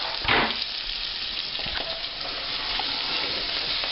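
Ham frying in a pan and being stirred: a steady broadband sizzle throughout, with a few scraping stir strokes near the start, close and fairly loud with no voices.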